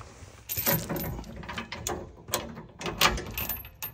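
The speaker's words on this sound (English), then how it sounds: "then you'll turn it a little bit to pull it out of the hole on the hitch" A Reese hitch bar is twisted and pulled free of a camper hitch, producing close metallic clanks, scrapes and rattling clicks in uneven bursts.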